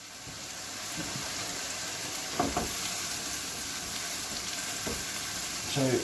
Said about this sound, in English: There's our toast, lovely, nicely browning there, nice and slow.